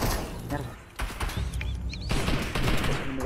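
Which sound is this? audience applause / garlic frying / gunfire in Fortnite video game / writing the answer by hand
gunfire in Fortnite video game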